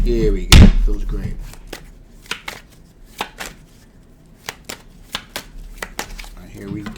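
Tarot cards shuffled by hand: a hard knock at the start, then a run of sharp, separate riffling snaps and taps at irregular intervals, close and fairly loud, with quiet stretches between.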